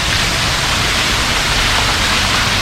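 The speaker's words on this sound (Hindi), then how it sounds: "झरना" A small waterfall in Cherrapunji (Sohra), Meghalaya, during the monsoon sends up a loud, constant, even hiss of rushing water, heard close and unbroken, with no voices.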